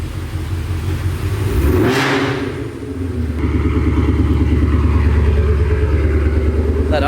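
A tuned, fully bolt-on Hades car engine runs steadily up close, with a brief rev swelling in the middle before it settles back into a loud, even idle with a faint rattle.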